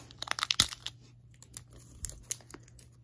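Sharp crinkling and tearing of a foil trading card pack wrapper being torn open with teeth in quick bursts, close up, with a low steady hum underneath.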